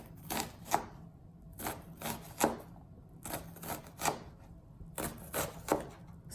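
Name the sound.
knife slicing an onion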